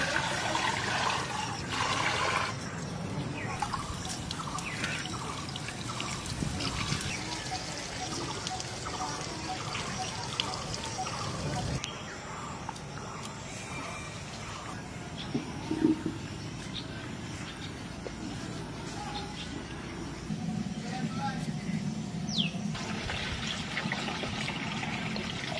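Running water used to wash things outdoors, a steady trickling and splashing flow that continues throughout, with a person talking over it.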